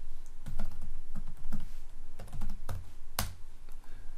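Someone types a DNS request on a computer keyboard: a run of irregular key clicks, close and fairly crisp, with one sharper clack near the end and no talking.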